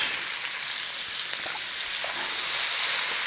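Onions frying in a pan give a steady, close hiss and crackle that stays even throughout and grows slightly louder near the end.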